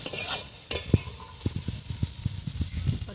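Soybean and potato curry fries in a pan while water is added, giving a steady close sizzle and a run of rhythmic stirring scrapes and taps, with no talk.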